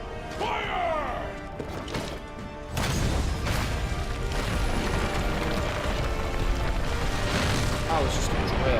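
The Dragonator cannon in the Monster Hunter game fires with a heavy crashing boom and clanking mechanism, followed by a sustained loud rumble of impacts, with game voices heard early.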